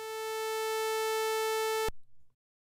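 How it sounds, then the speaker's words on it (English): A steady sawtooth oscillator tone generated in Pure Data sounds loud and buzzy, holding one pitch for about two seconds before cutting off abruptly, followed by brief faint clicks. "there's also a sawtooth oscillator that we can call on with phasor"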